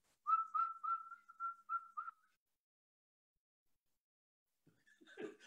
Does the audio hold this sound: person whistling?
yes